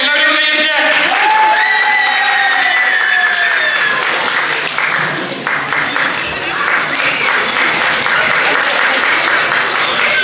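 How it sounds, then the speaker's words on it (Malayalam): Audience at an Onam celebration applauding, dense sustained clapping from a crowd, loud and close, with a sustained electronic tone and an amplified voice over it at the start. "ഓക്കെ, എല്ലാവരും കൈയടിച്ചേ."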